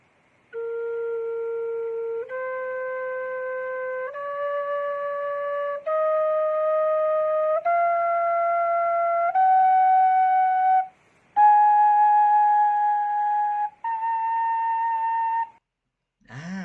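A Thai khlui phiang o flute plays a rising seven-note scale of sustained notes, each held about two seconds, clear and alone, stepping steadily upward before a short final flourish.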